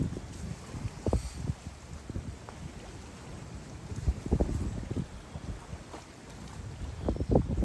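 Blustery wind buffets the microphone in irregular gusts, rising and falling over a faint background wash, with no voices present.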